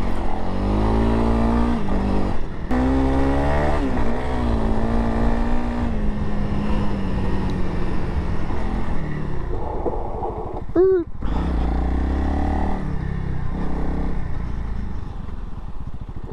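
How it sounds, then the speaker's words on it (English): A 2021 Honda CRF300L dual-sport motorcycle being ridden, its engine a steady close drone that rises and falls in pitch under wind rush, with a voice heard briefly over it. "Very, very enjoyable little bike to ride."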